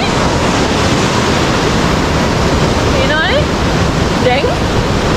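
A swollen mountain stream rushes on an off-season trail to Sri Pada in Sri Lanka, a loud, steady roar of water with brief faint chirps partway through.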